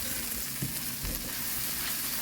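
Red chilli powder, turmeric and coriander leaves frying over low flame in a pan for a green peas masala sambar, a steady close sizzle with a couple of soft stirring knocks, no speech.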